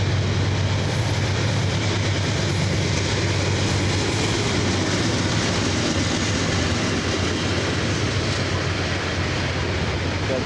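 A CSX freight train led by a 40CW locomotive rolls past at Huntington, West Virginia, in 1993, a loud, steady rumble of engine and rolling wagons that holds unbroken throughout.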